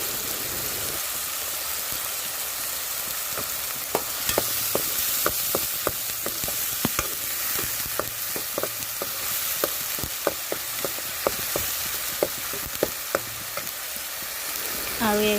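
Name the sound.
stirring masala with salt and turmeric in a pan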